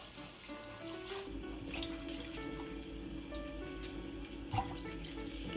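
Arugula is washed under a running kitchen tap, with a steady, faint stream of water splashing into a sink and small drips and clinks mixed in.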